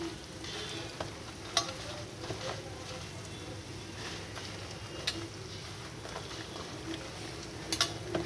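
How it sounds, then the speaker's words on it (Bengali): Fish roe is worked together with cumin paste and ginger-garlic paste, giving a soft, continuous wet mixing texture with occasional light taps and clicks against the bowl, close up and fairly quiet. "আর দিয়ে দিচ্ছি একটু জিরে বাটা আর আদা রসুনের পেস্ট। তারপর ভালো করে মেখে নিচ্ছি।"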